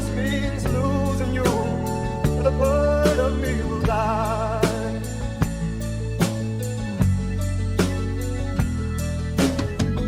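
A sampled song plays as full, dense recorded music, with a steady low end, sustained melodic tones and regular percussive hits, loud and continuous with no talking.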